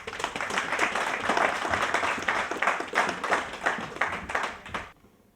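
Audience clapping at a HANDSA launching event in Liberia for the project manager, loud and close with distinct individual hand claps in an uneven rhythm, ending abruptly near five seconds.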